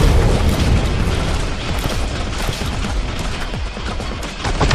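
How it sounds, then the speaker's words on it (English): A BFG grenade going off in Warhammer 40K: Boltgun during horde combat, a loud sustained roar of booming blasts and crackling bursts that rumbles continuously for several seconds. "And this is the BFG grenade. So it actually will pull stuff into it."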